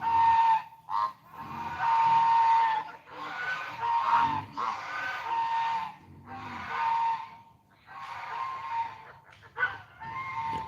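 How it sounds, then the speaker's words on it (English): Geese honk loudly and almost continuously in repeated ragged bursts, a busy flock calling close by with only brief gaps and no talk. "I don't know if you guys can hear the geese or not, but they're honking like crazy right now"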